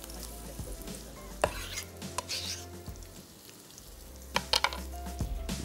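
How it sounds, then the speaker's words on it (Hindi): A single onion sizzles as it fries in a pan, with a soft steady hiss punctuated by occasional clicks and stirring knocks from a utensil, close by and fairly quiet. "1 अदद प्याज को ये लीजिए जनाब, इसको हम शामिल कर देंगे यहाँ फ्राई होने के लिए।"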